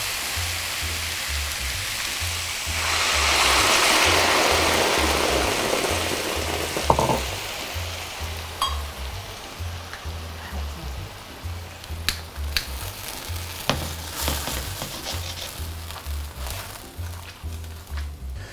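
A cup of wine hits a hot pan of short ribs with a loud, broad hissing rush that swells, then fades into crackling sizzle and scattered pops, all without talk.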